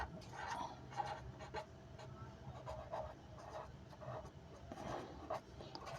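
A pen writes across paper in a maths lesson, giving quiet, close scratching strokes in short uneven bursts with a faint rubbing texture.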